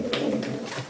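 Breeding racing pigeon cooing close by in a loft, one soft, throaty coo lasting under a second with no other sound.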